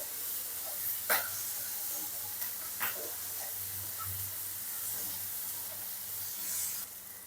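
Chopped onion and green chili fry in oil in a wok, a steady soft hiss filling the background with a few brief sharper crackles standing out.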